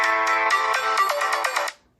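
Speaker of an Oukitel C50 phone plays a bright electronic ringtone, a steady melodic tone with pulsing notes for under two seconds, loud and close, then cutting off abruptly.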